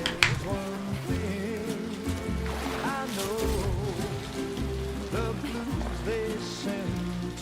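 Timefall rain in Death Stranding 2, an even hiss of rain on surfaces that runs through the whole stretch with no break, laid under tonal game music and low rumbling.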